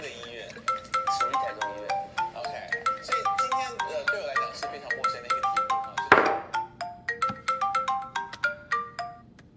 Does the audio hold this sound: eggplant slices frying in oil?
no